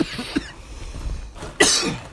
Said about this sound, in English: You're coughing now.